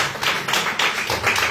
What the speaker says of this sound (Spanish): Un aplauso para el Señor, muy bien.